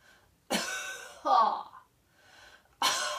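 A single sharp cough, followed by a brief voiced sound and another abrupt cough-like burst, close and distinct against quiet.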